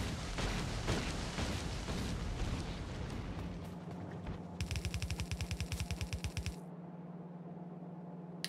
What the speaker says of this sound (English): Oh, are those new grenade sounds?